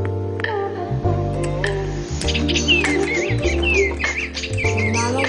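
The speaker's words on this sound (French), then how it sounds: "je voulais vous montrer ce petit oiseau et vous êtes content qu'il va chanter un petit peu" A small mechanical toy bird sings in bright chirps and warbling tweets over a steady, repeating low hum from its mechanism, loud and close, with no talking.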